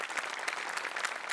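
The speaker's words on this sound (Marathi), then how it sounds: "पुन्हा एकदा जोरदार टाळ्या" A brief burst of audience applause at a live Marathi comedy show fills the moment, with dense, even clapping from a crowd.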